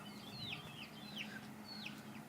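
A big farmyard rooster kept among ducks, chickens and geese, giving a few soft clucking calls at a distance over a steady low background hum.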